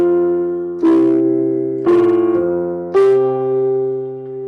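Piano sight-read with both hands, the third finger starting in each: three struck chords about a second apart, each ringing and decaying with sustained low and mid tones, close and alone.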